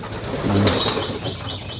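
A retired racing pigeon hen in a loft gives a soft low coo, with a brief rustle that could be wing flaps, over a constant close background hiss.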